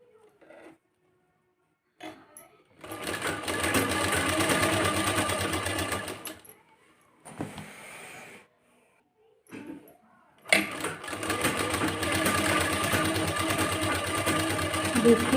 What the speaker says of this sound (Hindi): सिलाई कर लीजिए।